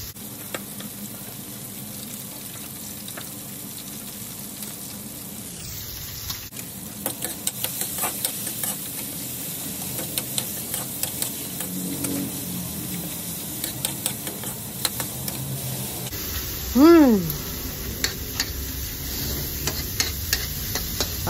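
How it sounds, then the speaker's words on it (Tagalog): Chopped tomatoes fry in a pan for adobong sitaw, giving a steady close sizzle and hiss broken by scattered scraping taps of stirring, with a brief louder clatter near the end. "Patunaw-tunawin lang muna natin yung kamatis bago natin lagyan ng toyo"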